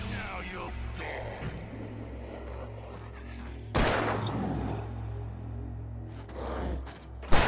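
Gunshots ring out in Alan Wake, a few sharp loud cracks, one near the middle and another near the end, over a low droning ambience.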